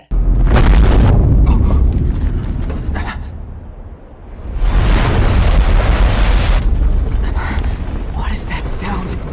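A bomb in the video game Valkyria Chronicles 4 goes off with heavy, loud booming blasts, first a deep rumble that fades, then a second roaring burst that tails off into lingering noise, with speech mixed in.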